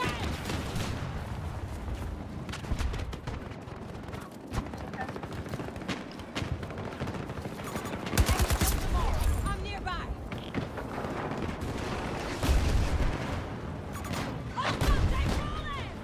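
Gunfire in the video game Battlefield 2042 booms and crackles through a battle, with repeated shots and heavy blasts on and off, under a player talking.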